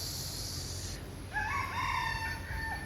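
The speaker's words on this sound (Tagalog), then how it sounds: "Uy, may manok." A rooster crows outdoors near a condominium tower, one drawn-out cock-a-doodle-doo rising and trailing off at moderate distance over steady background noise; earlier a high bird or insect tone is heard.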